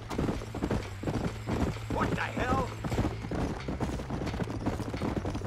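Horse hooves clip-clop steadily in Red Dead Redemption, a rhythmic run of close, loud hoofbeats mixed with game ambience and scattered other effects.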